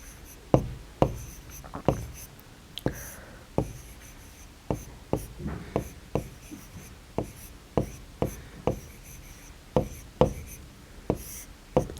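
Chalk or marker strikes on a classroom board in a primary maths lesson, a series of sharp taps and short scratchy strokes at an uneven rhythm, close and clear, with faint background noise between them.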